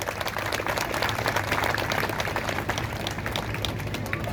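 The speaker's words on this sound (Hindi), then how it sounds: "तो आपके लिए एक जोरदार ताली होनी चाहिए" Audience at a book launch applauding, a continuous wash of many hands clapping at a distance, fairly soft and even, with faint crowd murmur beneath.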